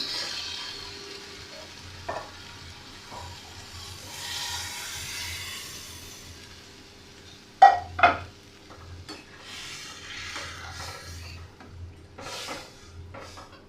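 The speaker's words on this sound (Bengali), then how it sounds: "এবার আমি এতে দিয়ে দেবো খানিকটা কাঁচা দুধ" Banana stem and mung dal curry frying in a pan as raw milk goes in, with a low steady sizzle, intermittent stirring scrapes and two sharp utensil knocks near the middle.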